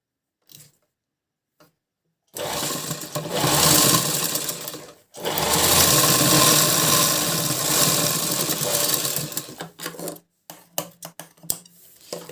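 An electric sewing machine stitches a blouse in bursts of fast, steady whirring, two long runs separated by a brief pause, with short stop-start taps and clicks before and after.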